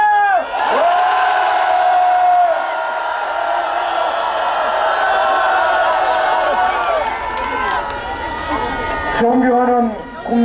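A large outdoor crowd at a political rally in Gwanghwamun, Seoul, roars and cheers in a loud sustained wave that swells and carries on for several seconds, with a voice sounding over it near the end.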